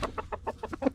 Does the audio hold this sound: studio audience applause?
no